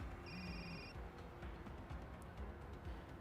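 A phone rings in the video game Reynatis: a short electronic ring tone of steady repeated tones lasting under a second, faint over a busy, noisy game background.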